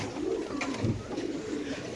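Caged pigeons at a bird market keep up a dense, continuous murmur of low cooing from many birds at once, close and steady throughout.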